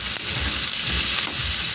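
Potatoes and onions frying in oil in a home kitchen for a Bengali rice muri ghonto, a loud, dense, continuous sizzle close by, without any speech.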